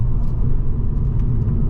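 A Mercedes CLK 55 AMG Coupé engine hums with a low, steady rumble up close, holding an even drone with faint higher ticks above it.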